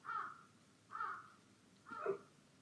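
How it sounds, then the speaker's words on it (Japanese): Crows caw outside, three separate harsh calls spaced about a second apart, moderately distant and fairly faint against quiet background. "すごい、外のカラスが祝福。"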